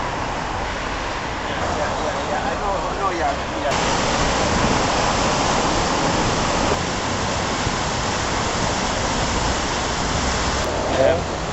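Water rushing steadily and loudly beside outdoor painters at an open-air art event, a dense continuous roar that fills the whole stretch without pause.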